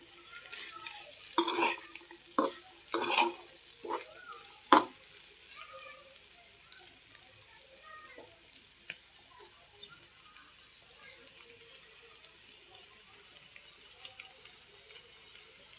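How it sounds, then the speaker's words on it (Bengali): Vegetables and egg stirred in a pan with a spatula in a home kitchen, a few scraping knocks and clatters early on, then a quiet low sizzle fading into near silence. "তাই ডিম দিয়ে ভালো করে ভেজিটেবলটা নাড়াচাড়া করে নিই"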